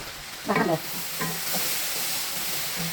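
Kashmiri chilli powder and masala cook in hot oil with tomatoes for chicken chukka, giving a steady soft sizzle and a few brief stirring scrapes early on, fairly quiet and with no talk over it.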